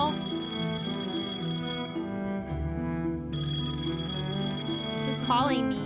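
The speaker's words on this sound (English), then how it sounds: "Phone call." A telephone rings in a tense scene, a steady electronic tone repeating in two bursts with a short gap between them, set against a low musical score.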